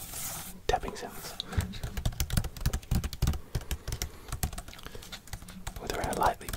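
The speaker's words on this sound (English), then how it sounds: "because it is a little laptop keyboard, it makes some interesting tapping sounds" Keys on a small detachable laptop keyboard clatter in quick, irregular bursts of close, crisp taps, some light and some heavier, with soft whispering running underneath.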